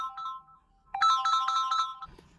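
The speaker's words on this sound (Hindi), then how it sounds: "भाई फोन आ गया था दोस्त का यार" A mobile phone ringtone for an incoming call, a short bright electronic melody of quick repeated notes lasting about a second, clear and fairly close in an otherwise quiet room.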